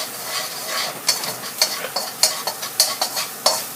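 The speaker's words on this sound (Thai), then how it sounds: "จะผัดให้หอมเหลืองก่อนนะคะ" Stir-frying in a pan, likely with chopped aromatics before shrimp are added, a steady sizzle broken by repeated sharp scrapes and clinks of the spatula against the pan, close and fairly loud, with no voices.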